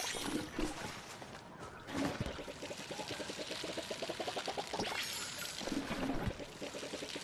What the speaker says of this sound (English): Now we can water them.